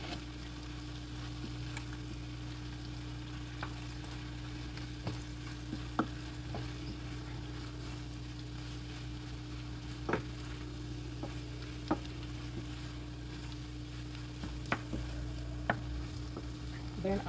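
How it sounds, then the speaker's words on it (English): A pan of food cooking on a steady low hum, with faint sparse clicks and scrapes of a utensil mixing it every few seconds, fairly quiet and with no voices. "I'm going to mix this together now"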